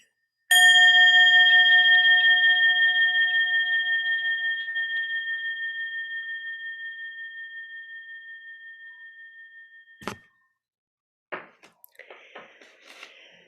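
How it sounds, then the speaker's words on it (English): A single small meditation bell struck once, ringing clear and bright with a long, slowly fading sustain, followed by a brief knock and faint rustling. "I have Tere's little bell here. Let's see what it sounds like"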